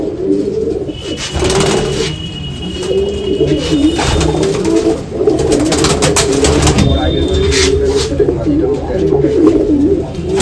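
Pigeons coo in a loft as the birds are let out, with continuous overlapping low cooing, close and loud, and scattered rustling throughout.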